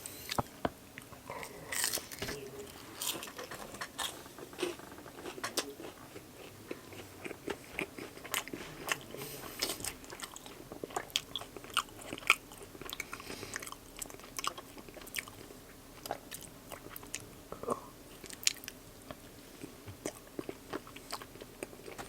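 Close, quiet biting and chewing of tteokbokki dipped in sauce at a street food spot in Anyang Ilbeonga, with soft crunchy and wet mouth sounds that run steadily and unevenly for about twenty seconds.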